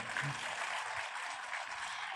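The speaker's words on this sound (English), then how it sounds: "Applause for this girl." Steady applause fills the hall as a literature festival audience claps for a girl, a dense continuous patter of many hands from start to finish with no break.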